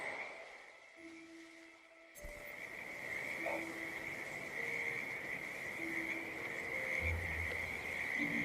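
Frogs croak in a backyard frog habitat behind a suburban house in the Hitman 2 game, a steady outdoor chorus over a constant insect-like drone and sustained soft tones.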